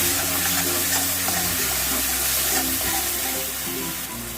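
Spiced masala paste being fried for a Bengali fish-head and cabbage dish, a steady broadband hiss with low hum running continuously throughout, no talking.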